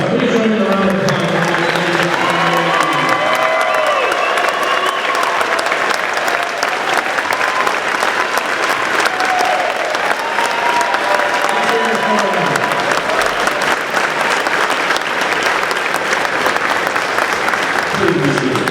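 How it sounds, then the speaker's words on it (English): At a US Army retirement ceremony, an audience gives a long, steady round of applause, dense and continuous clapping filling the hall for close to twenty seconds at even loudness. "Please join in the round of applause."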